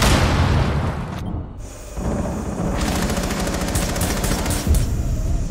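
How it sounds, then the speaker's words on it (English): Frag grenade blast in Rainbow Six Siege, a loud dense burst of boom and crackling gunfire-like noise, with a brief dip in the middle before the heavy rumble returns. "Throwing frag."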